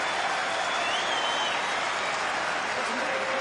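Spectators at an AFL football match between North Melbourne and the Sydney Swans applaud as a player comes to the bench, a broad, steady crowd wash at moderate distance with faint tonal noise above it.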